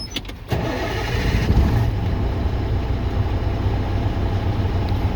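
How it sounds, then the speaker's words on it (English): A truck's engine cranks and catches after a safe start in neutral during an in-cab inspection and brake test, then settles into a steady, close, low idling rumble with no talk over it. "I'm gonna safe start the vehicle"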